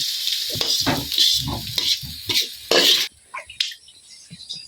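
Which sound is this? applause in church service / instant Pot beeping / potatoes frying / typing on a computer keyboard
potatoes frying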